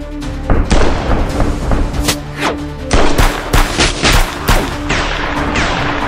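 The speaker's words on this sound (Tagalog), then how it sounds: "Nagpalitan ng putok ang magkabilang kampo." Gunfire rings out as two camps trade shots in a dramatic action scene, loud sharp bursts and single reports overlapping in rapid, irregular volleys for several seconds.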